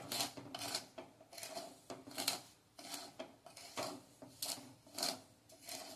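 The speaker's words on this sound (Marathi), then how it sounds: "सतत हलवत 1 मिनिटासाठी आपण हे भाजून घेणार आहोत" Salt roasted in a pan under continuous stirring, rhythmic scraping and gritty rasping strokes repeating about twice a second, close and fairly quiet.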